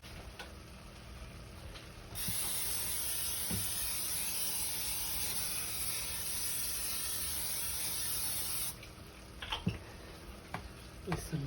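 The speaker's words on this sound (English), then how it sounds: "spray the crock pot." Pam cooking spray hissing into a crock pot in one long steady burst of about six seconds, with light ticks and handling clicks before and after.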